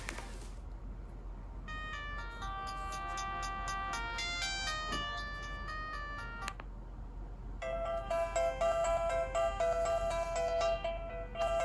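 A Motorola MOTOGO EX431G mobile phone plays electronic ringtone melodies through its small speaker, quiet and tinkly, one tune stopping and a brighter, busier one following after a short gap.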